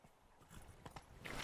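Hooves of a horse in The Witcher 3: Blood and Wine video game clip-clop in a quick, uneven patter close by, with a brief rush of hissing noise near the end.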